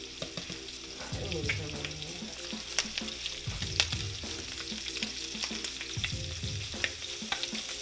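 Bacon frying in a pan for onion burgers, a steady close sizzle and crackle running throughout with occasional utensil clinks and stirring scrapes.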